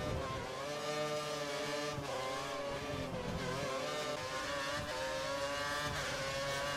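Race cars on a circuit in Belgium leaving the pit lane, engines revving in a loud, continuous, high-pitched whine with shifting tones as the cars accelerate past.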